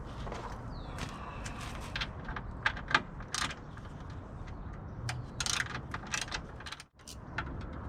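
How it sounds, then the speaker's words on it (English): Metallic clicks, ratcheting and small clanks from a Torx T30 bit loosening hood lock connections on a Jeep JL/JT, irregular and close, with scattered taps and handling noise in between. "we're going to take a T30 Torx bit and loosen these connections right here"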